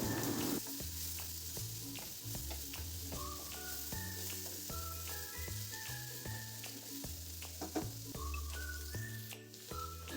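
Brinjal frying with potato and bitter gourd in a pan makes a steady hissing sizzle underneath melodic background music that stays prominent the whole time.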